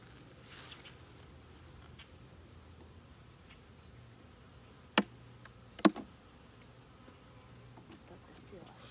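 Honeybees hum faintly and steadily around an opened comb hive, with two sharp knocks standing out near the end.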